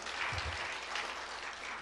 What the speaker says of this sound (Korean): 다시 한번 박수로다가 우리 한번 격려해 주시기 바랍니다